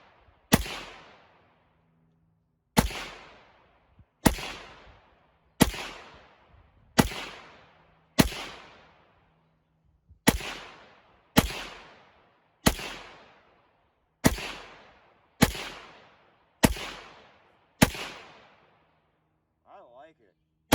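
Rapid gunfire from a Punisher 300 Blackout rifle, about a dozen sharp, loud shots in quick succession, each with a short decaying echo, outdoors, with brief talk at the very end.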